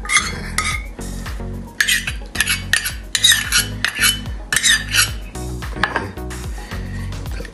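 A pestle grinds tahu tek sauce mixed with shrimp petis in a mortar, making repeated rhythmic scraping and gritty clinking strokes, close and clear, with short pauses between bursts and no speech.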